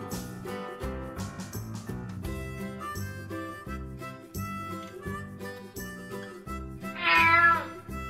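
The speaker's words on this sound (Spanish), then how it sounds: "Cat." A cat gives a single clear meow near the end, rising above a bright, bouncy music bed that runs throughout.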